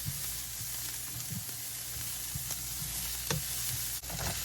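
Garlic sizzles and fries in a skillet for a Southern smothered cabbage and noodles dish, a steady close crackle with a few soft stirring knocks and scrapes, no talking.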